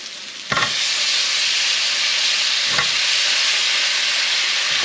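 Onions, turmeric and brinjal sautéing in a pan give a loud, continuous close sizzle, broken by two brief scraping stirs of a spoon through the vegetables, with no voices.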